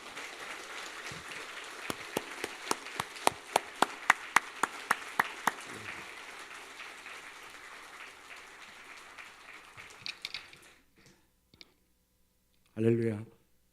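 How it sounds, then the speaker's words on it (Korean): Scattered, fairly regular claps ring out in a church as a speaker is welcomed to the front, thinning after a few seconds before a short burst of voice near the end. "나오실 때 뜨거운 박수로 맞이하겠습니다."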